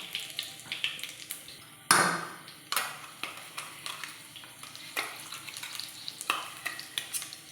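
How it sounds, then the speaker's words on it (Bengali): Nigella seeds and asafoetida crackle and sizzle in hot oil for dal paratha, a steady close frying hiss broken by sharp bursts as the spices hit the pan and are stirred. "তেল গরম হয়ে গেছে, আমি একটু কালো জিরা দিয়ে দেব। আর দিয়ে দেব একটু হিং।"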